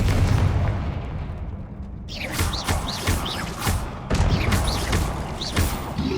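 Spell explosions and blasts from the video game Hogwarts Legacy, a series of roughly rhythmic booming impacts with bright whooshing bursts, loud and continuous over a dense backdrop of game effects.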